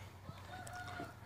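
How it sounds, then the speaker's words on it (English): A rooster crows in the distance, a thin drawn-out call over steady low background rumble. "Probably hear some roosters."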